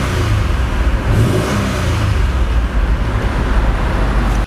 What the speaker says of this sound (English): How about I rev it up for you a little bit?